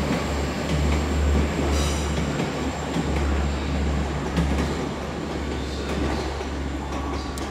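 A train rumbles through Exeter St Davids station on a Sunday afternoon, with a continuous low engine drone, a broad rolling rush and occasional faint wheel squeals and clicks. The sound stays steady and fairly close throughout.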